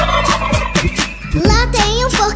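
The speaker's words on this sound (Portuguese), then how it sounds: "Lá tem um peru." A turkey gobbling within a children's funk song about animals, with loud, close rapid gobbles repeated several times over the music.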